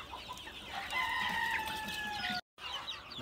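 Chickens in a poultry coop fitted with perches: layered clucking and drawn-out crowing calls from several birds, fairly close and continuous, broken by a moment of silence near the end.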